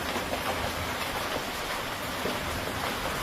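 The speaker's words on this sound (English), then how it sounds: "An intense hailstorm struck Pretoria, South Africa, overnight" Intense overnight hailstorm in Pretoria, South Africa: a dense, steady roar of ice pelting surfaces, loud and unbroken throughout, with no voices.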